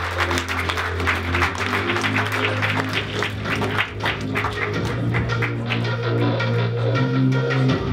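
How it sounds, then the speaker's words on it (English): Audience applause for a speaker being welcomed on stage, steady dense clapping throughout with a low sustained hum of music or room tone underneath, no voices. "Please give now a big round of applause to Frederik Brantner from Magazino"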